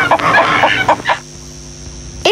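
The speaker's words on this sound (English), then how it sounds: "It's a hen." A hen clucks in a quick series of sharp, close calls for about a second, then falls quiet over a faint hum.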